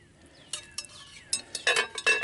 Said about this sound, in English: And let's put our lid back on there.